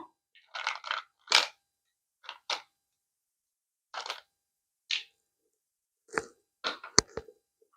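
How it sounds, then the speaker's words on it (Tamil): Ice cubes dropped into a chilled homemade summer cooling juice, a series of crisp clinking and crunching knocks in irregular clusters, close and fairly quiet, with silent gaps between drops. "இது கூடயே நம்ம ஐஸ் கட்டி சேர்த்துக்கலாம்"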